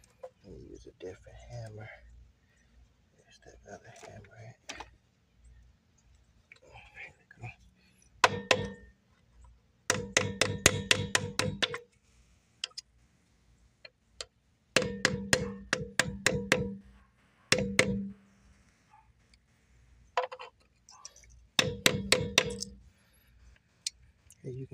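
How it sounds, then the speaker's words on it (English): Repeated hammer strikes on stuck capped lug nuts of a Dodge Charger RT wheel, working around the nut in several sharp metallic bursts of rapid blows separated by pauses, loud and close with some talk between. "you're gonna take your hammer and you're just gonna do this all the way around"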